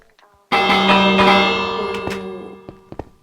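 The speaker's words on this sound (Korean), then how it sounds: "초인종." A Minecraft doorbell sounds as a single loud, bright chime that rings out and decays slowly with metallic overtones, followed by a few faint clicks.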